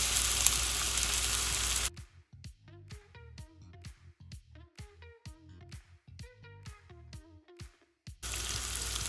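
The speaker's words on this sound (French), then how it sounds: "On met l'huile de tournesol et on va venir frire" Potatoes fry in sunflower oil with a loud, steady sizzle at the start and end, broken by a stretch of plucked melodic music in between.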